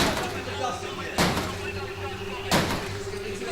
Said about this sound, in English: Somebody better close the door.